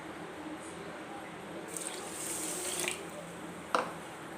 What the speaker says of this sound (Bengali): এখানে আমি 6 বাটি জল দিয়ে দিলাম।